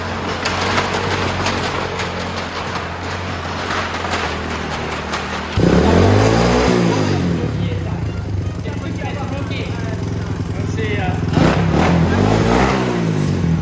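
A motorcycle revs on a wall of death, its engine noise rising sharply midway and swelling again near the end, with loud rising and falling sweeps over a steady background clatter.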